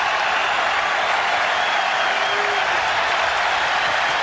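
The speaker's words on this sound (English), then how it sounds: "Now listen to the crowd now. They want another punch-out." A baseball crowd at Fenway Park roars and applauds steadily, a dense, continuous wash of cheering filling the ballpark at a 2001 Red Sox game.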